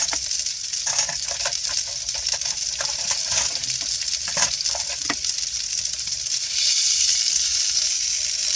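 Venison sears in a hot skillet with a steady, loud sizzle and scattered sharp crackles and pops, continuous and close throughout with no voices.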